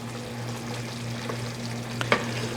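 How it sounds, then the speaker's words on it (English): Tofu being stirred gently in a thickened mapo tofu sauce in a pan, a steady soft sizzle and bubbling with a low hum beneath and a couple of brief scraping clinks near the end. "And stir it very gently so it doesn't break up too much."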